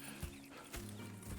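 Horse hooves clip-clop in Red Dead Redemption 2, a few soft, muffled steps on the ground, faint and brief.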